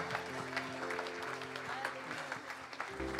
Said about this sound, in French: On peut applaudir Jésus encore.